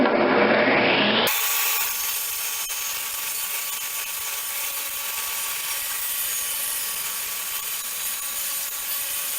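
A power saw cuts through lumber being milled for a cabinet face frame, giving a loud, steady grinding roar that runs unbroken after a brief higher-pitched start.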